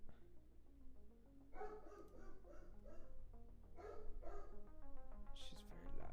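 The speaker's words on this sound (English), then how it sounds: "what are you barking at?" A loud pet dog barks in bursts indoors, with several sharp yelps and barks over a steady background hum and a voice talking.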